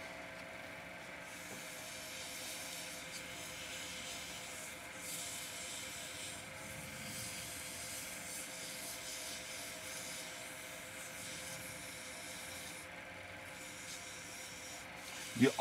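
Long, steady rubbing hiss of wet 1,000-grit sandpaper cross sanding a spinning resin brush handle, low and even throughout, with a faint mechanical hum beneath and no talking.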